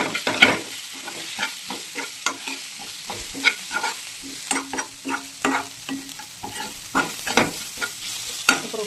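Liver frying with coriander-cumin powder, stirred briskly with a spatula scraping the pan in a steady run of close, rhythmic strokes over a constant sizzle.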